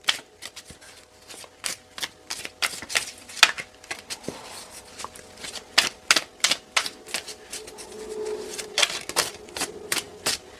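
A deck of tarot cards is shuffled in a run of crisp, rapid riffles and flicks, close and fairly loud, with irregular bursts spread across the whole stretch and no talk.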